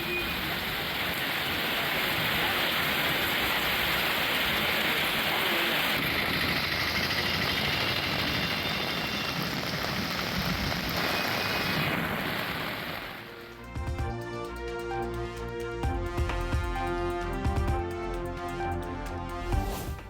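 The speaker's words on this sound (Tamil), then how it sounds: "ஸ்ரீவில்லிபுத்தூர் பகுதிகளில் நேற்று இரவில் திடீரென கொட்டி தீர்த்த மழை" Heavy rain pours down in a dense, steady wash across the first thirteen seconds of a sudden night downpour in the Srivilliputhur area of Tamil Nadu, then gives way to music.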